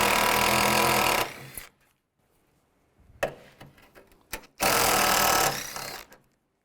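A power ratchet fitted with a 10mm socket spins out bolts during timing chain work on a 2002-2009 Chevy Trailblazer, two loud, close bursts of rapid mechanical whirring separated by quieter clicks and tool handling.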